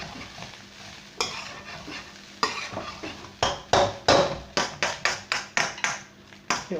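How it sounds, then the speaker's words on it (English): Rice being stirred and fried in oil for cumin rice, a low sizzle beneath a run of scraping, rhythmic spoon strokes against the pan that quicken and grow louder, close by. "in with the rice. Get the rice coated in the oil"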